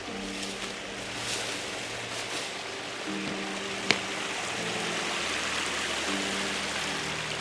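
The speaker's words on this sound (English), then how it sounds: "Okay, I found the stream. It's got like two sections here that is running off." A small outdoor stream splitting into two sections of runoff, heard up close as a steady broadband rush of flowing water with one brief sharp click near the middle.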